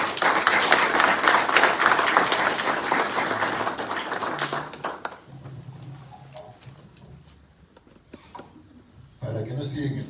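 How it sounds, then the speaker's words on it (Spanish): An audience at a book presentation claps for an arriving guest, dense applause for about five seconds that then thins to a few scattered claps amid room murmur and talking. "Por favor, lo recibimos con fuertes palmas."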